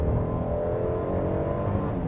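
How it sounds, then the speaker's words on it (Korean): Kia K9 3.3-liter twin-turbo V6 from 2020 revving at high RPM, a steady, moderately loud engine drone heard from inside the cabin with no talk over it. "지금 어차피 고회전으로 올라갔을 경우에는 엔진 사운드가 꽤 들어오거든요"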